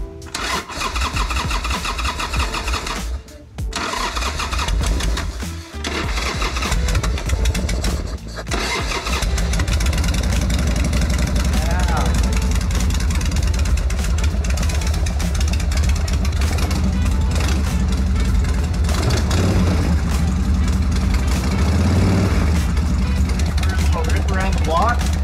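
A motorcycle engine starts after an ignition fix and settles into a steady, loud idle close by, running continuously for most of the stretch after a few brief interruptions early on, with some talk at the start.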